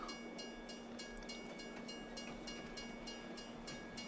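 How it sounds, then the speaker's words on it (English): A rented train in Farming Simulator 22 rolls in to a stop, with a steady rumbling hum and regular clickety-clack wheel beats, fairly faint and alone. "The train will pull up and stop."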